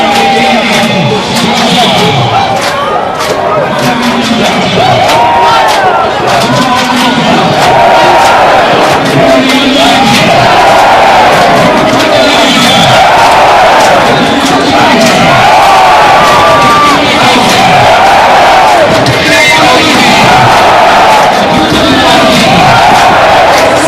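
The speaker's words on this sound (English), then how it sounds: "The fans in the stands have found their voice, applauding the Shujaa team" A rugby stadium crowd roars for Kenya's Shujaa sevens team at the Safari Sevens 2023 cup final, with loud, dense chanting rising and falling in a steady rhythmic pulse and constant clapping throughout.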